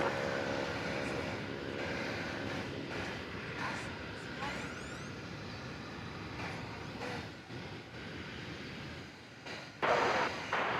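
A plane lands at DFW Airport on runway 18 left, a steady broad jet roar that holds for the whole stretch and swells slightly near the end.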